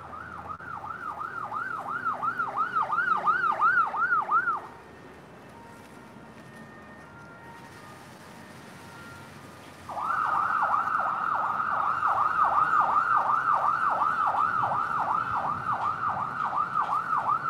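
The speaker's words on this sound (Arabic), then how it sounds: "وصوت الاسعاف في بيروت ما هدي من اول نهار" Ambulance sirens on a street in Beirut wail in rapid, repeating cycles, loud and fairly near, breaking off for several seconds before resuming just as strongly.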